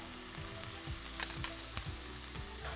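Onion and garlic sizzle steadily in a pot, a continuous close frying hiss with occasional soft stirring clatter and no voices.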